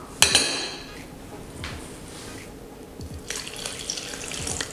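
Water poured into a Thermomix bowl along with butter while making a chocolate cake, a soft splashing pour in the kitchen with faint clinks, steady and fairly quiet.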